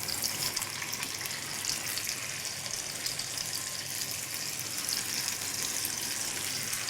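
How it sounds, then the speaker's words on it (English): Scallops searing hard in a little hot oil in a pan, a steady, loud, close hiss and crackle of frying that holds evenly throughout with no talking. "I like to sear them pretty hard on one side so it becomes nice and golden brown."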